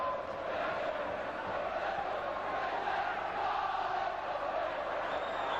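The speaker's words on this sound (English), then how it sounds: "But when everybody starts to cheer, it does become a noisy old place." A football stadium crowd of about 12,500 at a Chesterfield match roars in a steady, dense wash of cheering and chanting, loud and sustained throughout with no break.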